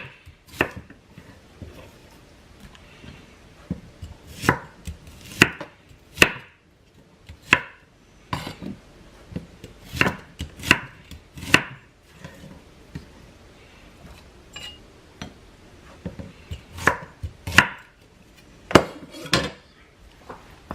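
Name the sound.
chopping shallot with a knife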